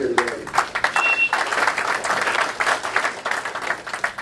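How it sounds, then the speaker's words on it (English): A press-conference audience applauds racing drivers Cale Yarborough and David Pearson: dense, steady clapping that fills the whole stretch at moderate loudness, with faint crowd murmur beneath. "let's give these guys a round of applause just for being here today"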